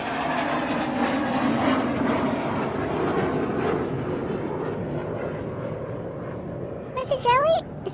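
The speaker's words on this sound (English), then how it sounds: "Mr. Jelly, is that an airplane? Can you see it? Yeah, it looks so close to us." A large fixed-wing airplane passes close overhead, a loud steady engine roar that slowly fades, with a brief voice near the end.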